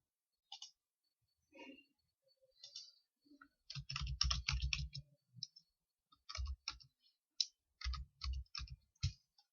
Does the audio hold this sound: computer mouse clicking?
yes